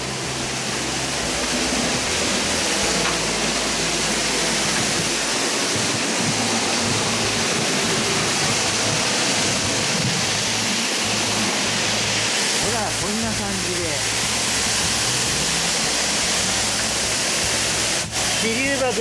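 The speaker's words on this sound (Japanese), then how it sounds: "ほら、滝の音がすごくよく聞こえるでしょう。" A waterfall at the Encho-en Chinese garden roars in a loud, steady broadband rush that fills the scene continuously, close and unbroken throughout.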